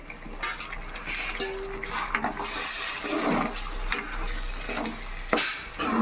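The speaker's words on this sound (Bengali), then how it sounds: "এবার আমি একটু একটু করে গরম জল দেব" Hot water poured little by little into a fish curry of katla in a pan, a rushing splash and bubbling sizzle mixed with clattering metal utensil sounds, fairly close and uneven.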